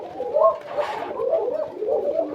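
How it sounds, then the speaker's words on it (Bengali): Koka pigeons cooing on a farm, a steady run of soft, warbling coos that overlap close by, fairly loud with no talk. "সবগুলো কবুতরে কিন্তু আপনার ডাকবে"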